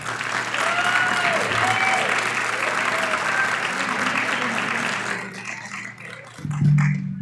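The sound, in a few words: audience applause at mayoral debate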